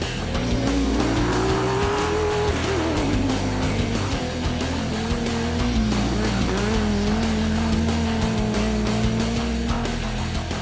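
Off-road race cars on a sandy track at a Nabiac off-road racing round, engines roaring steadily and loudly, one engine note climbing and dipping through gear changes with no pause.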